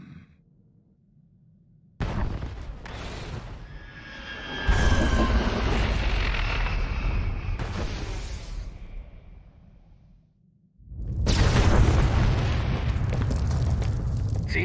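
Booming explosions from Star Wars: The Old Republic erupt in loud bursts separated by brief quiet gaps, with whooshing debris and a sustained roar trailing each blast.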